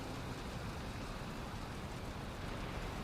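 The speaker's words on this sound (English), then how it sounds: "It's raining." Rain falling in the video game Valheim, a soft, even hiss of steady rainfall with no breaks, quiet throughout.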